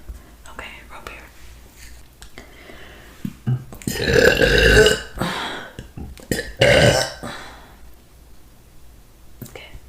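Repeated burps after sipping a drink during an eating session, several loud deep belches clustered in the middle with softer mouth sounds and whispered talk between them, very close and intimate.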